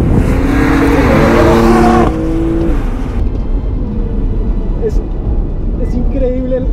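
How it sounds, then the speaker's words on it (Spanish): A BMW M2 Competition driven with traction control on, its engine loud and revving hard, then easing off with a drop in intensity around two seconds in, the car sound continuing steadily to the end. "Ahora vamos a dar una vuelta limpia en este carro ya con el control de tracción activado."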